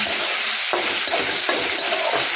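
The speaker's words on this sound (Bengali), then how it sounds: "ভালো করে এটাকে ফ্রাই করে নেব, আঁচটাকে বাড়িয়ে দিয়ে ফ্রাই করে নেব" Goat liver fries over high heat in a pan with a little salt, giving a loud continuous sizzle with a few stirring scrapes, and nobody speaks.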